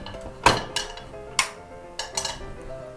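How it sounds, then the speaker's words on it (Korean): A frying pan set down and handled on a kitchen stovetop while preparing shiitake mushroom burgers: several sharp metallic clanks and clinks spaced through a quiet room, close and distinct. "먼저 팬을 준비하고요."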